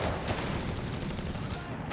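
Gunfire in Company of Heroes 3 as Panzer grenadiers open up on advancing GIs: a dense, continuous roar of rapid shots and battle noise that stays loud and steady throughout.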